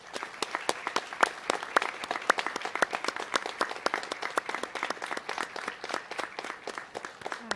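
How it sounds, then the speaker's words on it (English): An audience at an early college awards ceremony applauds steadily, dense continuous clapping from many hands filling the room at moderate volume throughout, with no break. "Please join me in giving them a round of applause."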